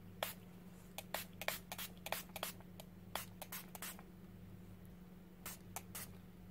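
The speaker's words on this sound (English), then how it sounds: "if need be, I will just spray it more" Short hissing spritzes from a spray bottle, fired close by in uneven bursts, some single and some in quick pairs, over a low steady hum.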